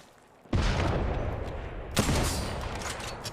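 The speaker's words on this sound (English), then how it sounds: "Grenade, move!" Two booming explosion bursts from a grenade in the Apex Legends video game, one sharp hit and a second blast about a second and a half later, loud and close with a long noisy tail and no talking.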